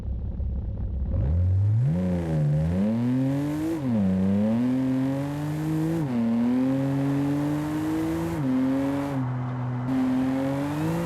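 A BMW car at 200 km/h plowing through dummies: the engine revs up in repeated rising sweeps with shifts between them, a loud, steady, close whine and rumble.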